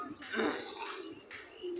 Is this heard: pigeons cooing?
yes